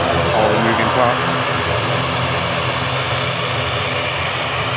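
An aircraft just in from the Isle of Man at Manchester Airport produces a loud, continuous engine drone that holds steady throughout, with a voice speaking over it.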